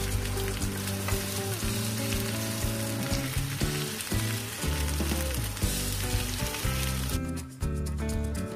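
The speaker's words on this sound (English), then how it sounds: "a steak burger, sizzled in a pan with some lovely onions" A steak burger sizzles in a pan with onions, giving a loud, dense, continuous frying hiss close by, with faint clinks and small pops through it and no voices.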